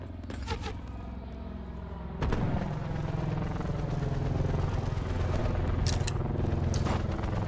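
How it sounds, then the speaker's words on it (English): Enemy attack helicopter in Call of Duty: Black Ops 4, a steady loud rotor drone overhead that swells partway through, with sharp metallic clicks and bursts layered over it and no talking. "Enemy attack chopper above."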